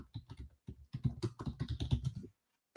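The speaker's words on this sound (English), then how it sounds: "let me type it in the chat" Quick tapping on a computer keyboard, close and fairly soft, with dozens of keystrokes in irregular bursts and a short pause before a final key press.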